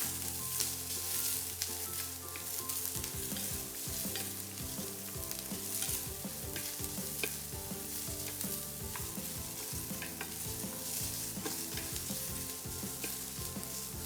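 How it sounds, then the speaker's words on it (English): Vegetables including red capsicum and boiled corn sauté in a pan, giving a steady, close sizzle with occasional stirring scrapes throughout, and no one speaking. "Put that along with boiled corn, and you can see how beautiful the colors are. Saute it for some time."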